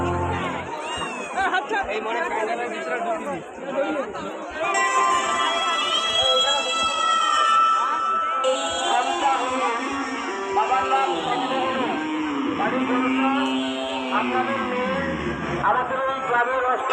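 Dense crowd at a Durga Puja pandal in a village, loud continuous hubbub of many voices with children shouting and some cheering, close and unbroken.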